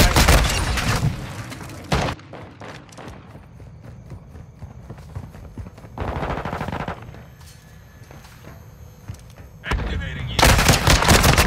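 Loud bursts of automatic gunfire in the video game Call of Duty: Modern Warfare 2 come in three rapid volleys separated by quieter stretches of distant battle noise.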